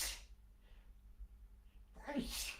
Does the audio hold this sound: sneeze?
yes